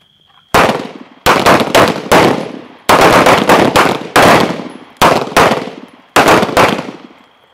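Handgun fire on a night shooting training range: eight strings of loud, close, sharp shots, several in quick double or triple bursts, separated by short pauses with no talk.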